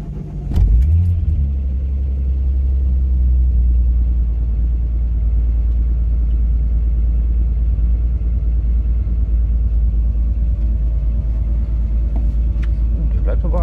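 Golf 3 with a VR6 Turbo engine running at close range, a steady deep idle rumble with slight throttle blips, under someone talking over it.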